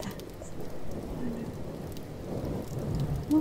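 Steady rain of a storm pours down in a dense, constant wash with low rumbling beneath, a distant roll of thunder swelling near the end; no voices.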